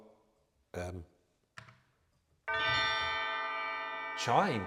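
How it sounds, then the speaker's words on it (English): A chime voice on a Viscount Vivace 10 Deluxe electronic organ, similar to Deagan chimes, rings as one sustained, bright, bell-like tone that holds steady for almost two seconds. Short bursts of speech come before it and a voice cuts in right after. "chimes, which are very like the chimes I've got in the studio, the Deegan canto chimes"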